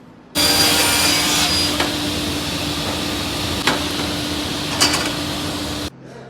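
Timber being cut to size at a wood shop, a steady loud machine whine running continuously for several seconds with a constant tone, then cutting off abruptly.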